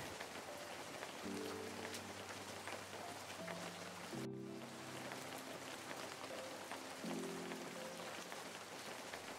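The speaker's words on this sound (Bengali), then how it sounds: "হঠাৎ বাইরের দিকে দেখি বৃষ্টি পড়তে শুরু করেছে" Faint, steady patter of rain falling outside, heard from indoors in a home kitchen, a soft continuous hiss with a few quiet tonal sounds drifting through the background.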